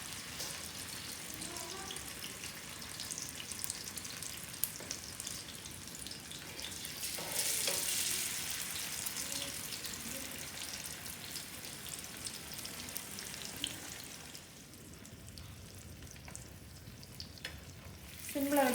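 Fish fries in a little oil on a tawa, a continuous close sizzle and crackle with a brief louder hiss midway, steady throughout with no speech.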